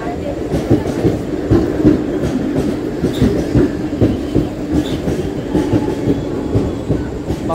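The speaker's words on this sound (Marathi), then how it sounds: "गाइस, ट्रेन आली" A Mumbai suburban train pulls into Prabhadevi station with a loud, close rumble and rhythmic clickety-clack of wheels, and faint wheel squeal runs through the steady roar.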